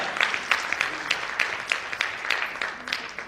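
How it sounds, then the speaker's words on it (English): A small indoor audience claps together at a corporate women's leadership event, a steady patter of many hands at moderate volume with no voices over it. "give a big round of applause to yourselves"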